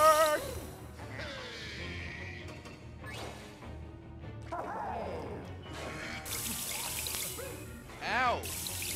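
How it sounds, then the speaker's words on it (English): Water gushes and splashes in Luigi's Mansion 3, a steady pouring rush with scattered crashes and mechanical clatter from the game, while a person talks over it. "So much water."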